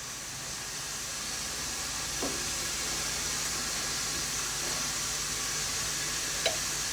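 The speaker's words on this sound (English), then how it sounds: "you should see a stream of bubbles coming off that part immediately" Metal parts fizz and hiss in a hot Parker phosphate solution near 95 degrees Celsius, a soft steady bubbling sizzle with a couple of tiny clicks, no voices.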